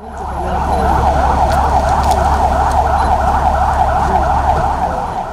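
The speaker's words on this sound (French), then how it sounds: "le son de plus en plus fort des sirènes confirme l'arrivée imminente du président de transition" A loud wailing siren from an approaching presidential motorcade in Chad cycles steadily up and down, close and continuous, over a low rumble of engines.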